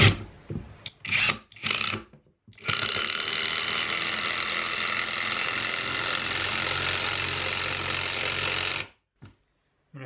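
A Kimo impact driver drives a 1/4-inch bolt about three inches long into wood. A few short bursts lead into a loud, steady, rasping whir that lasts about six seconds, then cuts off.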